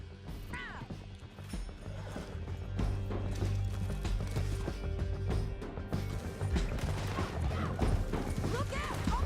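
Horses in the Red Dead Redemption 2 video game galloping as riders flee down a canyon, with rapid hoofbeats, whinnies and neighs, gunfire-like bursts and shouting voices layered over a busy action scene.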